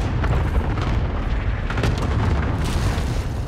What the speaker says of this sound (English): He really tried to get me with that cluster strike.